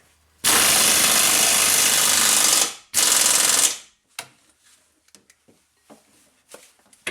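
A power tool whirs loudly in two long bursts while driving bolts on a Ford Contour rear subframe, followed by scattered clicks and light clanks of tools and parts.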